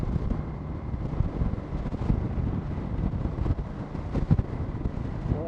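Wind buffets and roars continuously while riding a motorcycle in Okinawa, a dense rumbling rush with occasional gusty thumps and no clear talk.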